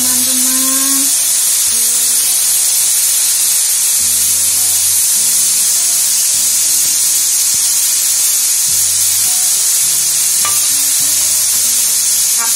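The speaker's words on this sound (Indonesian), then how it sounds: "ayam yang sudah dimarinasi kita goreng pelan-pelan" Marinated chicken fries slowly in hot oil, with a steady, loud, dense sizzle and crackle that carries on without a break. Faint clinks and stirring noises sit under it.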